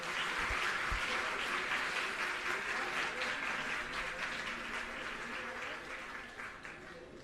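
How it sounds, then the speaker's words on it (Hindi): Steady, dense applause from a large crowd at a school inauguration ceremony fills the whole stretch, loud and continuous, tapering slightly toward the end. "जोरदार तालियों से स्वागत करें"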